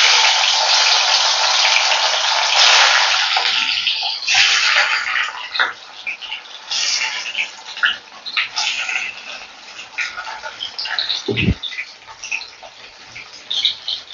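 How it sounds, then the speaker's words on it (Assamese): Paneer frying in hot refined oil in a kadai on a gas stove: a loud, dense sizzle at first that thins into scattered crackles and soft pops, with a low thud near the end. "এতিয়া মই পনীৰখিনি প্ৰথমতে ভাজি ল'ম।"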